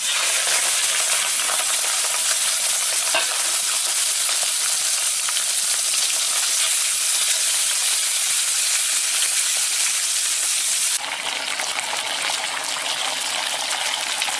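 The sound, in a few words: prawns with salt and turmeric frying in oil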